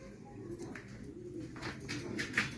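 Taxon pigeons cooing nearby, soft low murmuring coos over a steady background hum, growing a little louder toward the end, with no talking.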